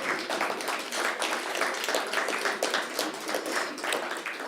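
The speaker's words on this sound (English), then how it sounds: "I hope someone will clap hands for her" An audience applauds at a national broadcaster's 35th anniversary celebration, with dense, continuous hand clapping from a crowd throughout.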